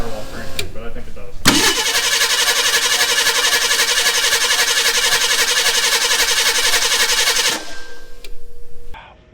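A Ford Bronco II fitted with a Holley Sniper EFI cranking over: a loud, steady, rhythmic starter churn lasting about six seconds that never catches, with brief quieter moments and voices around it.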